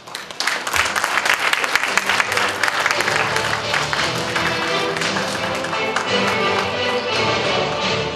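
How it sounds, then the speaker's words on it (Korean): A crowd at a Daegu city party rally applauds to welcome a speaker, producing dense, loud, sustained clapping that fills the whole stretch. "큰 박수로 맞이하겠습니다"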